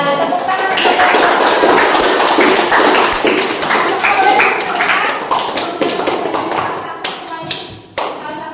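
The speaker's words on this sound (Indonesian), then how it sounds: "Ya, tepuk tangan." Classroom of students clapping together in a lesson, loud brisk rapid applause that thins out and trails off toward the end, with a few scattered late claps.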